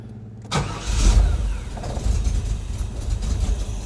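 An old Datsun car engine cranks and catches, then settles into a rough, uneven idle with mechanical rattles, close and fairly loud with no talking.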